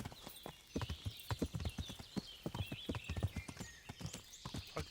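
Horse hooves clip-clop in a steady, quick rhythm while riding along in the medieval game Kingdom Come: Deliverance, loud and close, with brief occasional whinny-like sounds.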